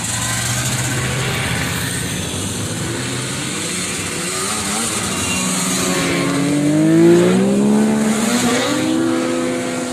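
Vintage Pantera snowmobiles ride past one after another with engines at throttle, a steady loud motor drone that rises as the sleds draw near and sweeps in pitch as they pass.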